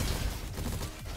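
The Vulture Rifle firing in the robot shooter game Roboquest: a short, dense burst of rapid gunfire, moderately loud and close, with no talk over it.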